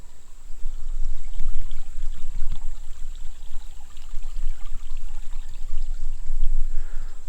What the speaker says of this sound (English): I came on down here to the creek in the bottom.